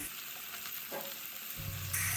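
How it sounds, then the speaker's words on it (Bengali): Small fish fry in mustard oil in a wok, a steady close hiss and sizzle with a faint scrape partway through and a louder burst near the end. "মাছগুলোকে আমি কড়াইতে দিয়ে দিলাম"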